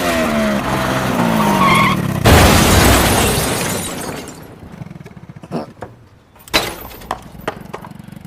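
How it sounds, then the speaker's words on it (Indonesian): A motorcycle skids and slams into a parked car: a loud burst of tire skidding and crashing impact, then scattered clattering debris and sharp knocks trailing off. "dia menabrak sebuah mobil yang terparkir"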